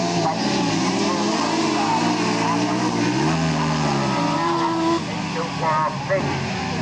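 Race cars compete on a track, their engines droning loudly and steadily throughout while a commentator talks over them.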